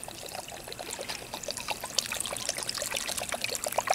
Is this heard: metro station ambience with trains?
no